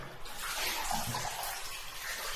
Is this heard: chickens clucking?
no